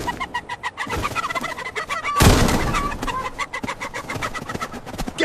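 Chickens and other fowl on a farm cluck and cackle in busy, overlapping bursts, with a loud rough flurry midway and a steady chatter of birds around it.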